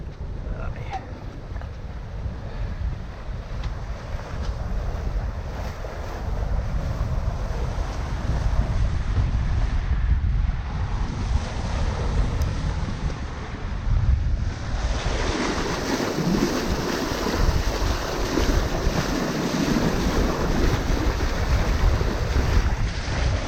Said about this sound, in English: Got some wind now.